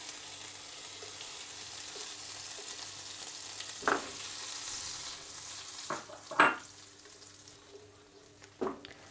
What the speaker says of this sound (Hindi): एक पैन में मक्खन डालकर हल्का सा मेल्ट कर लेंगे।